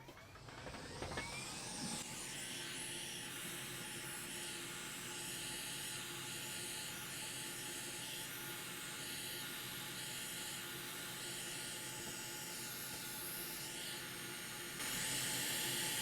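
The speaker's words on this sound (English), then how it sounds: "We're going to heat up from the bottom to remove the connector." A hot air rework station blowing a steady, loud hiss while heating a ripped LCD connector from the bottom of a Mini Maxx tuner board to desolder it, continuous throughout with no talking.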